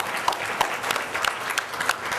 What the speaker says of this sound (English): Is one big round of applause.